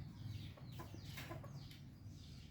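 Chickens, including at least one rooster, kept at a grandmother's home, clucking softly at a moderate distance over a steady low background hum, with no voices.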